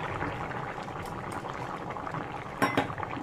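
Ridge gourd and potato curry with cumin paste bubbling in a pot, a steady close boil with soft liquid gurgles and a brief clink of a utensil near the end, no talk.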